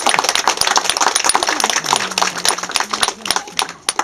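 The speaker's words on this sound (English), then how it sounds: "I think he heard a round of applause for all his efforts." A small gathering at a shelter event honoring a mural's creator breaks into loud, uneven clapping, with sharp individual claps standing out against a faint tonal hum or voice in the background.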